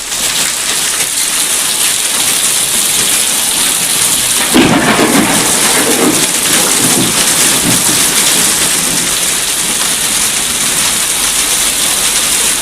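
Heavy rain pours steadily in a loud, dense hiss while a thunderstorm rumbles, with a deep roll of thunder breaking in partway through and fading back under the downpour; no voices.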